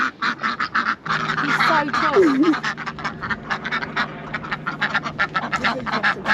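Ducks quack repeatedly at a large city farm in London, a busy run of short calls close by, mixed with people talking over them throughout.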